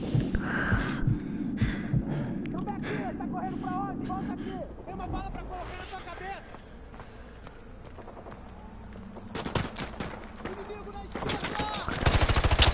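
Video game gunfire: rapid shots begin under excited talk, fade during a quieter stretch, then return as loud, dense, close bursts near the end.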